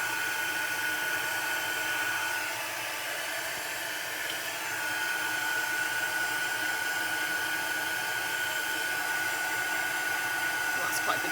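A heat tool blows hot air onto vellum, a loud, steady roaring hiss with a sustained whine, constant throughout and close.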